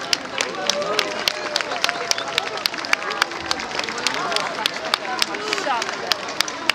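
A street crowd applauding at a historical parade, the Gwarki procession, with dense, sustained clapping and a few sharp, close claps, while chatter and voices mix in underneath.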